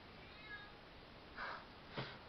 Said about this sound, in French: C'est mon chat qui miaule.